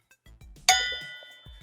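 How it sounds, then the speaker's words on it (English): A single bright metallic cowbell strike, used as a game show buzzer, rings out and fades over about a second, preceded and followed by faint low thumps. "he's got the cowbell. You could never go wrong with the cowbell."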